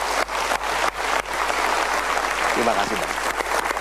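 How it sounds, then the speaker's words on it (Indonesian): Audience applause in an Indonesian TV talk-show studio, a dense steady clapping wash with a couple of brief dips, while someone speaks briefly over it near the end. "Mari kita berikan tepuk tangan untuk mereka."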